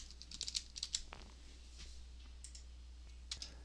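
Light, quick clicks of typing on a computer keyboard, a short cluster of taps, then a pause and a few more keystrokes, faint and close over a low steady hum.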